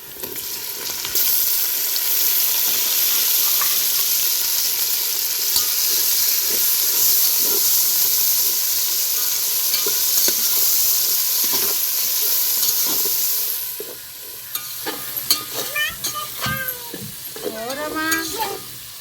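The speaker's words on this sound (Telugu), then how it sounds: "ఇప్పుడు టమాటా పండ్లు వేసుకుందామండి" Chopped tomatoes go into hot oil in a pan for paneer pulao, raising a loud, hissing sizzle with stirring scrapes; the sizzle fades partway through and a voice speaks briefly near the end.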